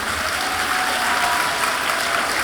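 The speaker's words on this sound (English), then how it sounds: "massive round of applause for them" Loud, dense applause at the 2022 WA Apprentice of the Year awards ceremony for the finalists, a continuous even roar of many hands clapping.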